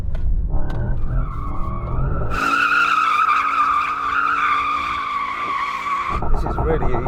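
A Mercedes-AMG GT63 drifting in first gear, its tyres squealing in a loud, sustained skid over engine roar for several seconds, with brief talk before and after.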